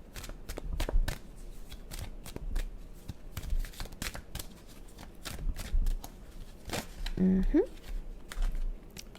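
Tarot cards are shuffled with quick, dense riffling and slapping close by, continuing for several seconds as a person speaks quietly over it.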